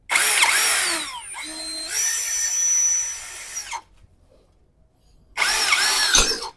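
An OSUKA OCHD802 three-mode drill, set to speed 2 in drill mode, bores a 6.5 mm bit through 1.5 mm thick steel box tube. Two loud, close whining runs come with a pause between them, then a third burst starts after a near-silent gap.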